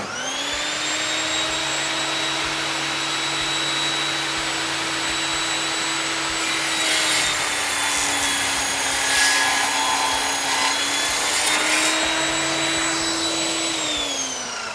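A RAGE5-S circular saw with a 255 mm wood blade cross-cutting a 2-inch-thick oak board: a loud, steady motor whine throughout, roughening briefly partway through as the blade bites.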